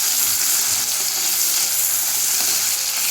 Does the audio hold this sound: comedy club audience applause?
no